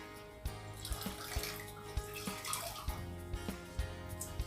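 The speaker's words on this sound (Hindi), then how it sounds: "इसको निचोड़ के इसका पानी निकाल देता हूं।" Water splashing and trickling as a wet cloth for a Maratha Holkar turban is wrung out by hand after soaking, with a steady pour and a few sharper drips, close and moderately loud.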